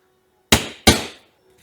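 A hammer knocks a hole through a cardboard template during a 394 stroker engine build, two sharp, loud, close strikes about a third of a second apart, each ringing out briefly, alone without talk.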